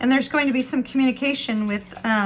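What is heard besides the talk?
None of the usual background noises is heard.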